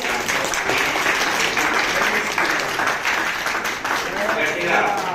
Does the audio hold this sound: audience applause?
yes